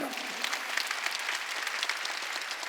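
A church congregation claps together during a Sunday sermon, a dense, steady burst of applause filling the room for a few seconds.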